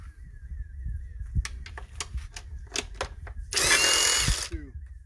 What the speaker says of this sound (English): with 10 millimeter, remove the 4 bolts that hold this cowling together.